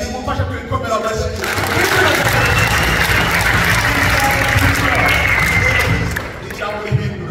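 A church congregation claps together in a broad, steady wash of applause lasting several seconds, loud and close, with a voice heard at the start and end.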